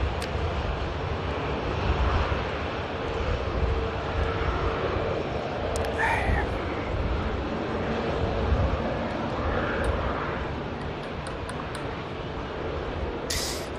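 Emirates Airbus A380 pushing back for departure at Manchester Airport, a steady broad jet-engine roar and rumble heard from a distance, continuous with slight swells, no voices.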